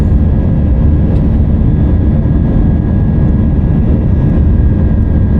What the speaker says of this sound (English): So here we are, taking off in an easterly direction, clearing the airfield